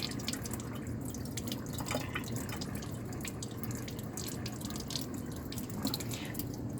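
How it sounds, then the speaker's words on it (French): Tap water runs and drips while a crystal violet stained smear slide is rinsed in a microbiology lab, a steady, close, moderate trickle with scattered droplet splashes. "on peut rincer à l'eau"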